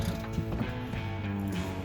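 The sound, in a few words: ratchet turning Honda Pilot 3.5L crankshaft pulley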